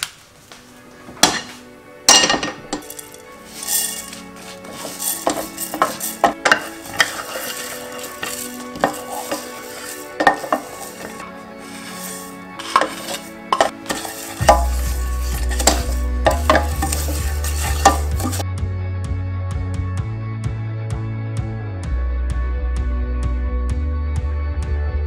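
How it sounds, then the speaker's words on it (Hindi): Whole biryani spices dry-roasting in a pan over a low flame: irregular clattering knocks and scrapes for about fourteen seconds, before steady background music takes over. "इन सारे मसालों को धीमी आंच पर भूनना है, यानी कि धीमी आंच पर रोस्ट करना है।"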